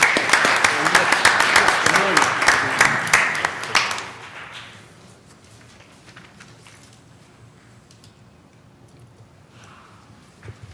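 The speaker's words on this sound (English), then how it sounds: "Give him a round of applause, please." Applause at a city council meeting in Flint, a dense burst of clapping for about four seconds that fades into quiet room tone with faint rustling.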